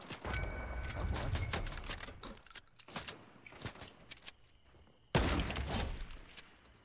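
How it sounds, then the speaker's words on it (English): Gunfire in the Fortnite battle royale game comes as repeated sharp bursts of shots with short gaps, one loud blast near the end, over faint game background noise. "I sniped him."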